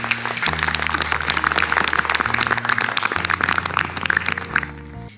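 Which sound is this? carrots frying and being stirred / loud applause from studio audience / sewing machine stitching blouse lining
loud applause from studio audience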